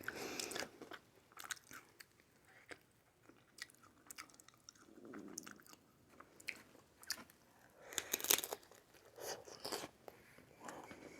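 Close, wet chewing and crunching of aguachile with scallops and shrimp at a mukbang meal, irregular bites and squishy mastication in bursts with short quiet gaps.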